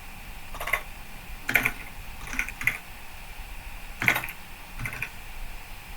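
Keystrokes on a computer keyboard during a timed typing test, coming in short irregular bursts of clicks with gaps between them and no voices.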